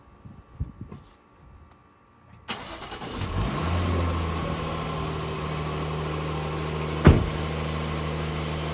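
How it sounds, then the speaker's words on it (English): A Jaguar F-PACE engine cranks to life after a quiet start with faint handling noises, then settles into a steady, close mid-pitched idle with a brief sharp knock near the end. "Go ahead and start the car up."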